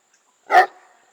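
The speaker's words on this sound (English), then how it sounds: "Don't bark at me." A single sharp dog bark, close and loud, fading quickly into a short trailing echo, with no talking over it.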